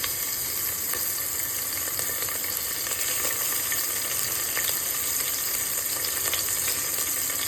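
Chilli-garlic paste, coriander and curry leaves sizzle in a spoonful of hot oil, a dense, steady close hiss with small crackling pops throughout and no voices.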